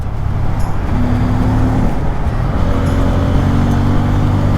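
A Bajaj Pulsar NS200 motorcycle is ridden along a road, its engine droning loud and close with steady wind and road noise, the pitch shifting slightly as the ride goes on.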